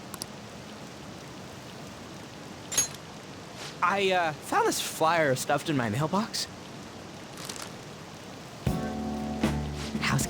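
Steady rain falls throughout a scene in the video game Persona 5 Royal, a soft continuous hiss under a voice speaking in the middle, with a brighter tonal game sound entering near the end.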